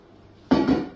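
A deep metal cooking pot is handled for making adjika, giving a sudden loud clank of metal followed by a ringing scrape that fades within a second, with no voices.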